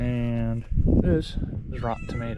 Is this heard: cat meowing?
yes